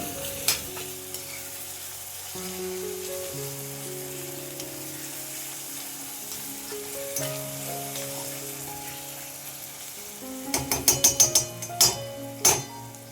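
Chopped tomato stirred into onions frying in oil in a pan, a soft steady sizzle with a scraping utensil and a burst of sharp metallic clinks near the end, over a faint background hum.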